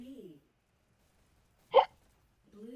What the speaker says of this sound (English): Sorry for the hiccups.